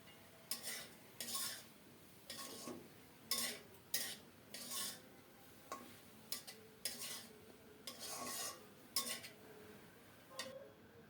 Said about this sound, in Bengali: ভালোভাবে নেড়ে চেড়ে শাকের সাথে মশলাটা মিশিয়ে দেব